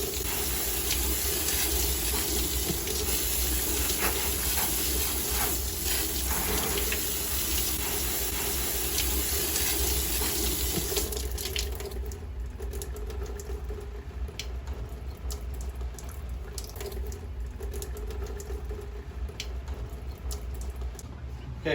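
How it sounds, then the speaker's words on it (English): Tap water pours over a GreenFeed air filter during rinsing, a loud steady gushing stream that turns thinner and more spattering about halfway through, close by. "I'm just trying to rinse off any big particles that might still be on the outside."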